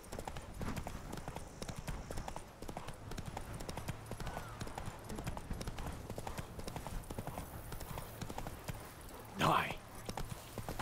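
Horse hoofbeats from The Witcher 3: Wild Hunt, a steady clip-clop of a trotting horse running throughout, with a brief louder burst near the end and speech over it.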